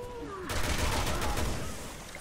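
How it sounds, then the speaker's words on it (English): In Resident Evil 6, Leon fires while sliding: a dense, continuous volley of gunshots bursts in loud and close after a brief lull and rolls on for over a second and a half. "I'm amazed I managed to shoot that guy while, you know, sliding"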